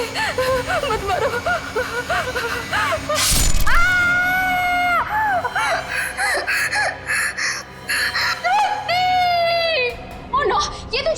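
A woman screams in a Hindi TV crime drama, long sustained shrieks with gasps and sobbing cries, loud and close, after a sharp crash, with other voices briefly heard.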